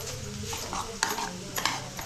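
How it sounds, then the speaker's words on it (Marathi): Ground masala paste frying in hot oil and being stirred in a home kitchen, a steady soft sizzle with scraping stir strokes and a couple of sharper clinks against the pan, close and continuous. "आता वाटण तेलामध्ये शिजून घ्यायला घेतलं"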